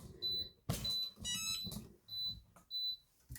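A heat press sounds a series of short high electronic beeps in bursts, mixed with brief clattering handling noise in the middle.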